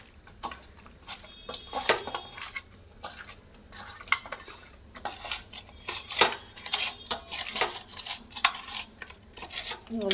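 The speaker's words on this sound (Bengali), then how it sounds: "তেল গরম হোক, মাছটা মাখিয়ে নিই" Fish being rubbed with salt and turmeric by hand in a kitchen, producing soft, irregular wet squelches and light clinks against a metal dish, close and fairly quiet, with no talking.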